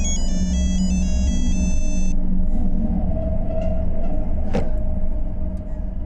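A bright electronic ringtone chimes for about two seconds over a loud, steady rumbling background, then cuts off.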